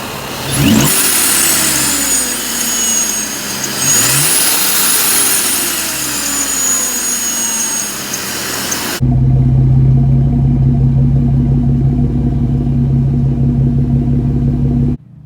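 A Jeep Wrangler JK fitted with a Gen 1 Ripp supercharger kit and no aftermarket intercooler revs loudly, its engine sweeping up and down twice, then settling into a steady heavy rumble close by.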